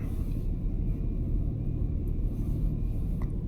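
A car on summer tires climbs a snowy hill from a standstill, its engine giving a steady, close, low rumble throughout with no voices.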